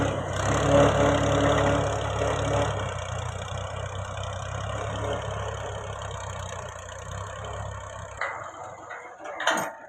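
Fiat 480 tractor engine running in a rice field, a steady mid-low diesel drone that holds evenly for most of the clip before dropping off near the end.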